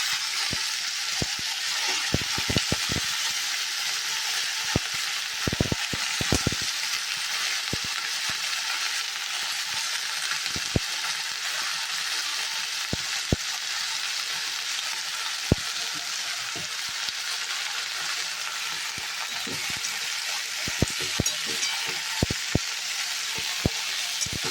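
Onions and cut vegetables for sambar sauté in oil, producing a steady close sizzle punctuated by sharp ladle clicks and taps against the pan throughout, without any talking.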